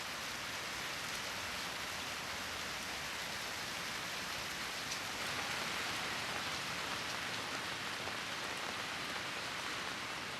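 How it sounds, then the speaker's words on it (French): Steady rain patters continuously in Kyoto during the rainy season, a dense soft hiss of drops on surfaces with no voices. "Derrière le clapotis incessant de la pluie"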